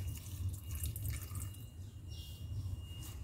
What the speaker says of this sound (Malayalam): ഇനി നമ്മൾ ഇതിലേക്ക് കുറച്ച് വെള്ളം ഒഴിച്ചു കൊടുക്കണം.